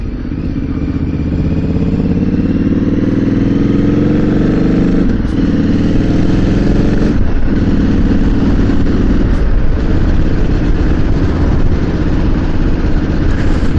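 Motorcycle engine running on a cold night out, a loud, steady low rumble with shifting throttle tones and a few brief clicks, close by throughout.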